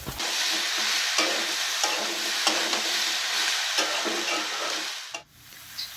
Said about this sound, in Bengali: ঝিঙেগুলো দিয়ে একটু হালকা ভাজা ভাজা করে নেব।